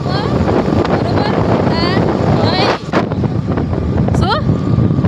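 Wind buffets the microphone while riding a motorbike on a road toward Gift City, making a loud, constant rushing roar that dips briefly midway, with a voice talking over it.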